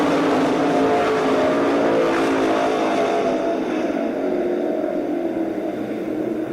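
A pack of modified race cars roars around Columbus Motor Speedway in a heat race, a dense, steady engine drone loud and continuous throughout with no clear gaps.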